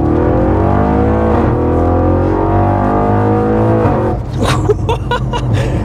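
Audi RS6 Stage 2 accelerating hard on the road, heard from inside the car: a loud, continuous engine drone with rising pitch through gear changes, then a brief dip and rougher, choppier revs near the end.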